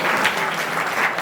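An audience applauds at a Hindi poetry recital, a short burst of dense, even clapping from a crowd, close and fairly loud.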